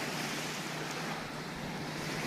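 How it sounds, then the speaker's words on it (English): Ocean waves wash continuously on a shore, a broad steady roar of surf with some wind across the microphone, with no voices. "you came and listened to the waves"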